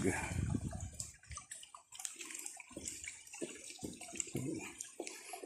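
A small river flows under a wooden bridge in a forest, its water splashing and trickling faintly beneath intermittent talking and rustling nearby.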